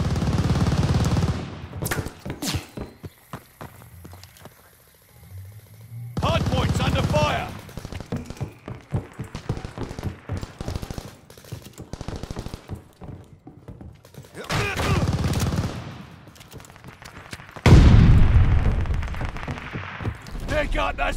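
Call of Duty Vanguard firefight at a hardpoint, with scattered gunshots, thudding impacts and louder explosive bursts coming in waves, mixed with in-game voice callouts.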